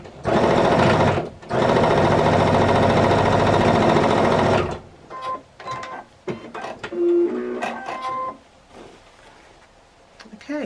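A sewing machine stitches together a large jelly roll quilt block for a scrappy tote bag, running loud and continuous for about four seconds with a short break, then stopping; fabric handling and light clicks follow.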